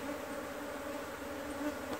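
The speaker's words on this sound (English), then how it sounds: "God, these bees are really cross." Dense, agitated buzzing of many bees, steady and close throughout with no pauses.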